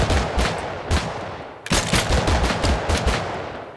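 Two Desert Eagle .50 cal pistols fired together in Totally Accurate Battlegrounds, sharp, heavy shots cracking in quick, uneven succession, loud and close, with a brief pause partway through.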